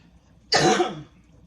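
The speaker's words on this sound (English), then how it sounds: "It always make me cough." A single sharp cough bursts out close by, brief and loud, with quiet surroundings before and after, while chitterlings are seasoned with Greek seasoning.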